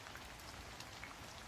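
Steady rain falls on a surface during a horror audio story, a dense continuous patter of drops throughout with no voices.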